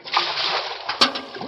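A bucket of water sloshes and splashes onto a man in a radio drama, a brief wet whoosh with a sharp splatter about a second in, then trickling.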